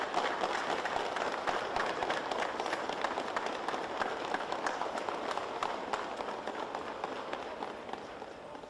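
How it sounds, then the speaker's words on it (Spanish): A street crowd applauds during a Holy Week procession at night, a diffuse, fairly distant rattle of clapping mixed with shuffling footsteps, steady and soft, tapering slightly toward the end. "Aplausos para ello"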